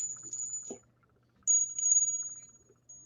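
A small souvenir Durban bell with a little penny queen crown rings in two short, bright bursts separated by a pause, the second ringing out longer; quiet background noise and a faint voice fragment between rings.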